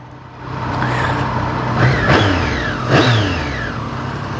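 Triumph Street Triple 765 R motorcycle engine revving on the road, two sharp throttle blips rising and falling over a steady running drone, fairly close.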